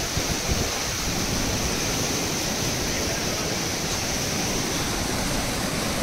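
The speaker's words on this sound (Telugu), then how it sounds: "ఫైనల్గా వాటర్ఫాల్ అయితే చూసేసుకున్నాం" Kusrampalli waterfall on the Telangana–Karnataka border roars in a steady, dense, full-band rush of falling water, loud and close, continuous without breaks.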